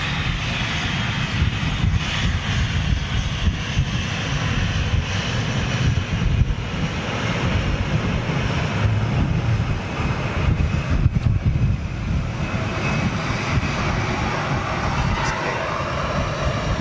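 An Airbus A330 jet taxis out with a continuous, fairly loud engine roar mixed with wind noise on the microphone, holding steady throughout.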